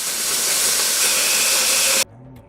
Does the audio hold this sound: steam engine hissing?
yes